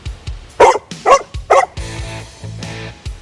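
A dog barks three times in quick succession, loud and close, followed by softer whimpering yips, with no talking.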